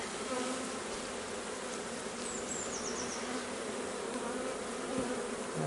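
Honeybees buzz in a dense, steady hum close by as a beehive is opened and inspected, continuous and moderately soft with no talking.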